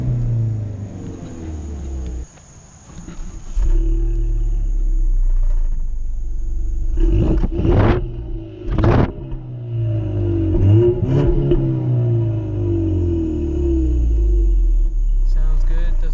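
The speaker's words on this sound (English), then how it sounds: "Let's start up the Ecoboost. Put your foot on the brake, press the engine start button, and it roars to life." A 2015 Ford Mustang EcoBoost fires up with a sharp roar, then settles into a steady low idle rumble punctuated by a few throttle blips, close and loud.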